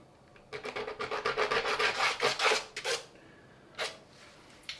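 Dried watercolour paint being scraped on paper for an abstract landscape, making a close, rapid series of rasping strokes lasting about two and a half seconds, then a pause and one last short scrape.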